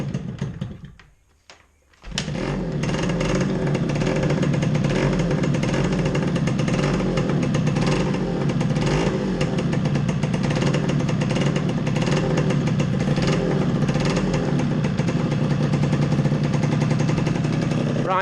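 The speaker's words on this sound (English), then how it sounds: "This is the first time this engine's run in about 6 years. I reckon it's going to be 3 kicks maximum." A Yamaha RXS100 two-stroke motorcycle engine, unrun for six years, is kicked and catches, then runs with a loud, steady, rasping buzz close by. Choke is on.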